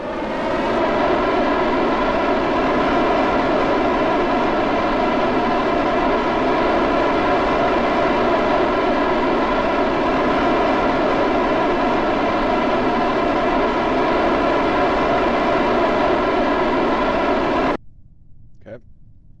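Rocket engine at full throttle during a launch in Kerbal Space Program roars as a loud, constant, harmonic-rich drone that holds steady for about seventeen seconds, then cuts off abruptly into near silence.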